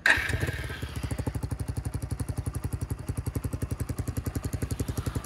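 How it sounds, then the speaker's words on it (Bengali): A motorcycle fitted with a new Yoshimura exhaust fires up with a sharp start, then settles into a steady, loud, rapidly pulsing idle close by, with no talking. "এটা ছিল হচ্ছে বাইকের এক্সস্টের আর কি সাউন্ডটা"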